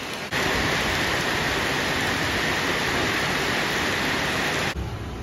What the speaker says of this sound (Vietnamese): Rồi bây giờ thì một cơn mưa lớn.